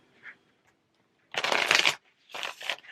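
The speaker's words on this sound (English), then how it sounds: "One more shuffle." Tarot cards being shuffled close by in two quick riffling bursts after a brief silence, crisp papery flutters with a short pause between them.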